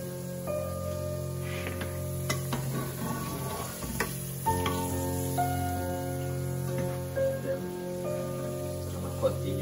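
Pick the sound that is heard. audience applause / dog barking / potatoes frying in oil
potatoes frying in oil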